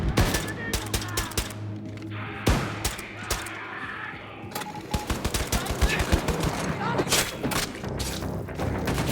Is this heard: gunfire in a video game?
yes